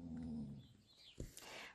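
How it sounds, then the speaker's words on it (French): A dog grumbles in a low, whining tone outdoors near a village lawn, then trails off into faint rustles and a brief sharper sound, with no talking over it. "Vous avez le droit au chien qui râle, je sais pas si vous l'avez entendu."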